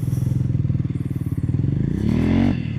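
A Triumph Scrambler 400X motorcycle engine thumps in a steady, bassy pulse as first gear is engaged, then the revs climb into a louder rising pull as the bike rides off, close and alone.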